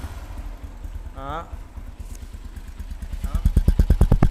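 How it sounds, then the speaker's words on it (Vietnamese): A voice speaks briefly, then a motorcycle engine starts up close by and settles into a steady, rapid thumping idle. "mình lấy chìa khóa mình nổ máy thử cho anh em nghe thử nha"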